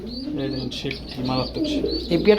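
Soft cooing of racing pigeons in low repeated pulses, with some chirping and faint voices mixed in.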